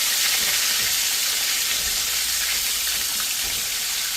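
Snapper fillets fry in a pan with a loud, steady hiss and crackle of hot oil that runs unbroken throughout, with no voices over it.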